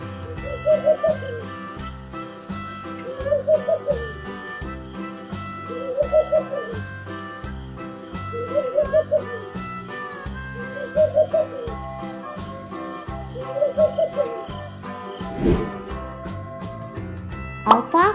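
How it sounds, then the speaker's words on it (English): An eagle owl hoots in a mountain setting: about seven evenly spaced calls, roughly one every two and a half seconds, ring out clearly over a steady, dense background hum, with no talking. "Eagle owl."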